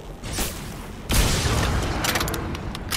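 Gunfire in the video game Crysis 3: a soft shot early on, then a heavy, booming blast followed by sharp rattling reports and a lingering rumble.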